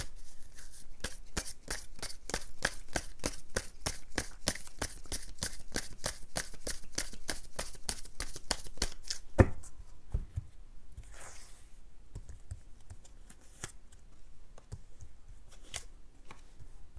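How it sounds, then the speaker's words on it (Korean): Tarot cards shuffled quickly in a steady run of crisp riffling flicks for several seconds, then a sharp tap and quieter scattered card slides and placements as cards are drawn, close and fairly soft. "제가 오늘 추가 카드 빠르게 뽑고요"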